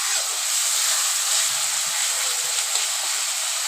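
Chopped tomatoes frying in a hot pan make a loud, constant hissing sizzle that holds evenly from start to finish with nothing else over it.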